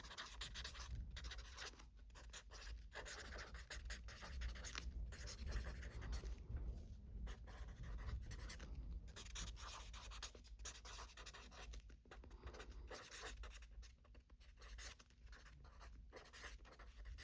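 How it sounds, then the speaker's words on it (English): Handwriting in an art journal, a steady close scratchy pen-on-paper sound with short pauses between strokes, quiet and continuous, with no talk. "I'm writing messy."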